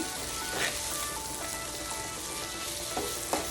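Bacon jam with brown sugar sizzles steadily in a pan, a dense crackling fry with a few louder stirring scrapes, close and alone without talk.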